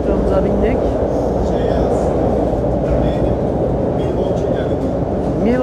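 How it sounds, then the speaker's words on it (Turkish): Chicago metro train ride heard from inside the car: a continuous low rumble of rolling wheels and carriage noise, steady throughout, with people talking over it. "Metromuza bindik."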